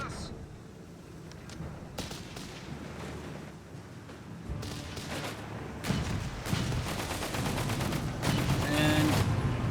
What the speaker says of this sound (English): Bit of rocket artillery.